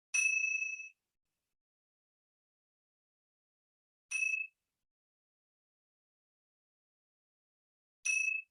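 A small yoga bell chimes three times, evenly spaced about four seconds apart, each strike a bright, clear ring that fades quickly into silence, quiet and alone.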